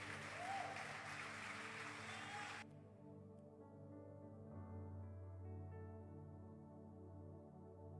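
A church congregation gives the pastor a round of applause, a brisk wash of clapping that cuts off abruptly after a few seconds, leaving a low sustained hum and faint room tone.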